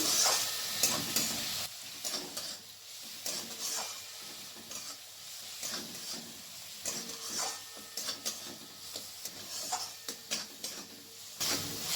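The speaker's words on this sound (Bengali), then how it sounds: "পেঁয়াজ সাথে আদা রসুনের পেস্টটাকে ভালো করে ভেজে নেব যাতে রসুনের কাঁচা স্মেলটা যেন না থাকে" Onion cooking with ginger-garlic and green chilli paste in a pan for a chickpea curry, a steady crackling sizzle with repeated scraping stirs of a spoon against the pan, close and alone without talk.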